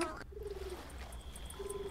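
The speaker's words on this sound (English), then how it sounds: "Oh, pigeon." A pigeon in The Supper game gives soft, low coos, one at the start and another near the end, over quiet background ambience.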